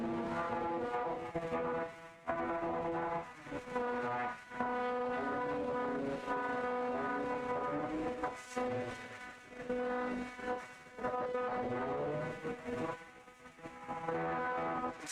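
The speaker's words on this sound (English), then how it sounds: "We have two very angry sounding spinners in the box now." Whirring spinning weapons of two antweight combat robots, one horizontal and one vertical spinner, clash in an arena box, a steady tonal whine with harmonic layers broken by brief dips and sharp impacts.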